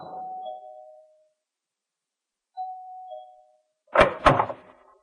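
Two rings of a doorbell in a radio drama: a single mellow chime tone that fades, a pause, then a second identical chime, followed by a loud double knock or thump on a door.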